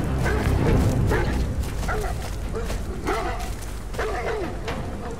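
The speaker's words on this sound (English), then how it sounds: "Those dogs are trained to take more of a beating than that." Dogs in the video game Beyond Two Souls yelp and whimper in short bursts over a dense, rumbling game soundtrack, the cries close and repeating several times.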